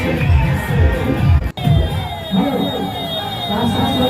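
A big, dense crowd gathers at a Vishwakarma Baba aarti, with loud, continuous, close crowd noise, overlapping shouts and cheering voices throughout, and a brief dip midway.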